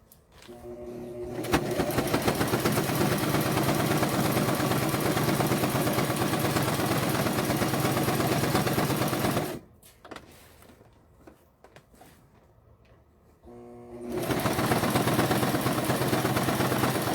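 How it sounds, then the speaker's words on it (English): A home sewing machine running a zigzag stitch to attach a decorative edge on a handmade junk journal hums in a steady, fast, rhythmic whir. It stops for several seconds of near quiet with small handling noises, then restarts. "I'm going to use a zigzag to sew on this decorative edge"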